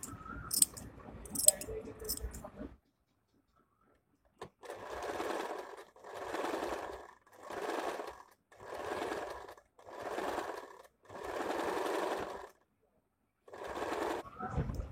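A sewing machine stitches binding onto the square neck of a nighty, running in about six short close bursts separated by brief pauses, after some handling noises at the start.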